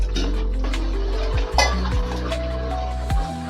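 A spoon stirs jaggery syrup in a pan for pineapple payasam as it reduces until the ghee separates. Close scraping strokes sweep against the metal over a low, steady bubbling.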